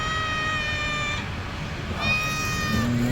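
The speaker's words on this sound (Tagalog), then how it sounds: "Pakain muna tayo ng pusa." Two long, drawn-out meows from a hungry cat at feeding time, one after another, close by over a steady low background rumble.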